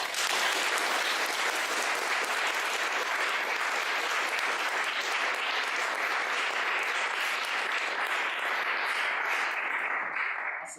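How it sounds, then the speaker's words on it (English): An audience claps for a speaker at a talk event, a dense, loud and sustained round of applause that stays full for about ten seconds before tapering slightly at the end. "a round of applause for Rick"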